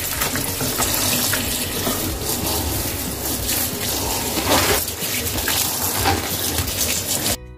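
Water runs and splashes steadily into a bowl of spinach being washed, a continuous close gushing with small sloshing shifts throughout.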